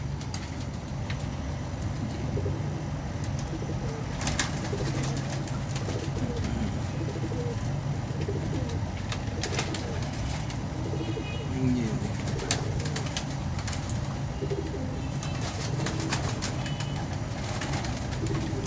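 Soft cooing from breeder pigeons blends into a steady, noisy background hum, with occasional faint clicks and rustles throughout.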